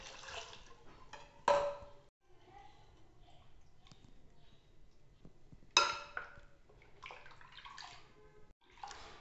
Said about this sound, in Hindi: इसमें और 2 गिलास ठंडा पानी डाल देंगे।